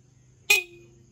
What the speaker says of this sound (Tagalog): Pag nasupplyan siya ng positive, tutunog siya.